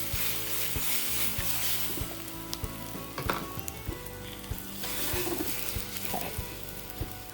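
Reconstituted powdered eggs frying in a pan, a steady close sizzle broken by occasional scrapes and taps of a utensil being stirred, no talking.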